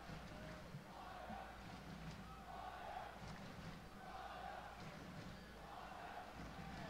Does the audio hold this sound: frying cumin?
no